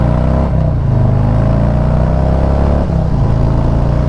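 Harley-Davidson Sport Glide motorcycle engine revving hard and pulling away, a loud, close, steady low rumble with two brief dips where gears shift, no talk over it.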